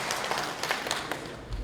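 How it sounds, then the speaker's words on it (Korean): Short burst of audience clapping at a lecture for a Confucian leaders' gathering, a few scattered claps that are moderately faint and irregular, lasting under two seconds. "괜찮다고 생각하시면 박수 한번 해볼게요"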